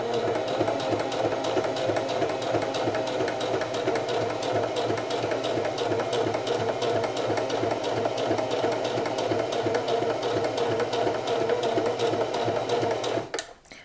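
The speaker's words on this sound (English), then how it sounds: "I'm gonna go ahead and sew a straight line all the way to the end" A sewing machine runs continuously for a long straight line of stitching, a close, steady, rhythmic mechanical hum that holds even throughout before stopping abruptly at the end.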